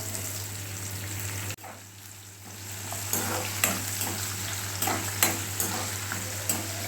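Sliced onions sizzle in hot oil with urad dal, mustard seeds, cumin and curry leaves, frying steadily with a brief drop in the sizzle, then several sharp clinks and scrapes of a spoon stirring the pan.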